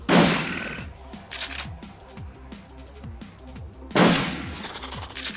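Gunfire in the Shadowrun Returns video game, aimed at Harlequin: two loud broadband bursts of shots at the start and near the end, with sharp repeated cracks and clicks continuing between them, no voices.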